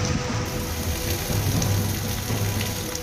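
Heavy rain from Cyclone Yas pours down along the Odisha coast, a loud, dense, unbroken hiss of water striking surfaces with a low rumble beneath, no voices.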